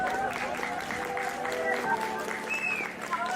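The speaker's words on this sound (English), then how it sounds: "Give our guests a round of applause" Audience at an Irish Gaming Market cosplay panel applauding its guests, a sustained round of clapping with crowd cheers and a voice talking over it, fairly distant in a hall.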